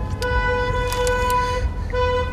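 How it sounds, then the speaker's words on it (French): Car horns honk loudly and continuously for a wedding procession in Paris, several overlapping horn tones blaring up close above street traffic rumble, with a few extra toots layered on top. "on a le droit de klaxonner."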